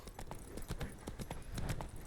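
Steady clip-clop of horse hooves at a slow walking pace in The Witcher 3: Wild Hunt, moderately close, with a faint rustly background.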